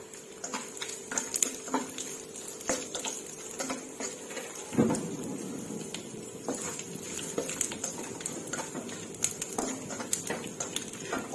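Chinese sausage (kun chiang) frying in a pan gives a steady close sizzle and patter, broken by scattered sharp pops and stirring scrapes and a brief louder clatter midway.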